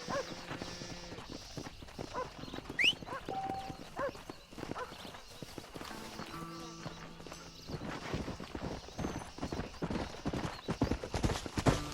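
Horse hooves clip-clop in a steady rhythmic gait in the Red Dead Redemption video game, close and continuous, with faint game tones and ambience underneath.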